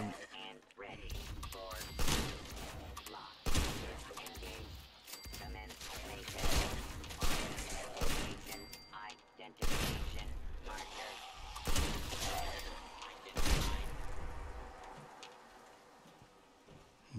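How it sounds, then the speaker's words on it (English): Shots from the player's gun in Fallout 76 crack out at intervals, each a sharp loud report. They fall in an uneven rhythm over steady game background sound, with talk in between. "My gun is very noisy."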